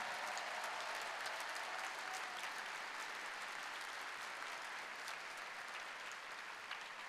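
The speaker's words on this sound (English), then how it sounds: "let's give a big round of applause for all those students" Indoor audience at a FIRST robotics district championship ceremony applauding, a dense and steady wash of clapping that holds for several seconds before easing off slightly.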